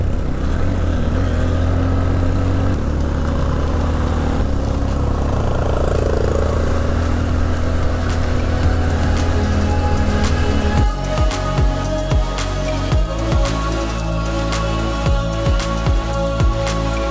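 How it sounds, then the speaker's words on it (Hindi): A motorcycle engine labours and revs hard in first gear on a rough mountain road near an off-road track in Kashmir's Neelum Valley, loud and close throughout, with a strained droning pitch that shifts and stutters in the second half. "बाइक की जान निकल रही है"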